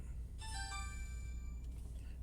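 A mobile phone ringtone chimes briefly in a garage setting, a short bright melodic ring of a couple of seconds at moderate volume with no talking over it.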